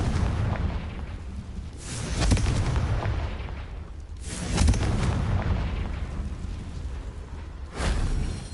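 Confringo spell explosions in the video game Hogwarts Legacy, three heavy booming blasts at intervals, each with a rumbling tail, loud and close.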